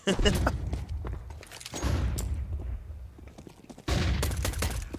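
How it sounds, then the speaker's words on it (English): Gunfire in a Counter-Strike 2 match on Dust II, with rapid shots and bursts in clusters, loud and close, alongside game sounds. "Dilly trying to push shots through on connector, but a little too flashed"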